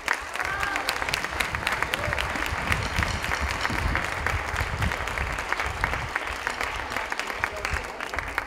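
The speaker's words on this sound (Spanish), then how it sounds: "gran aplaudiment en aquests cantaires nostres." Steady applause from the audience at a municipal music school's end-of-year concert, dense clapping with faint crowd murmur throughout, even and sustained from start to finish.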